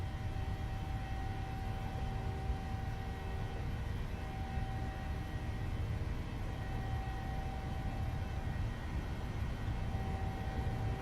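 A GOL Boeing 737-800 in the PMDG add-on for Microsoft Flight Simulator rolling down the runway for takeoff, a steady loud jet engine roar with broadband rumble and a thin whine held throughout, no talking.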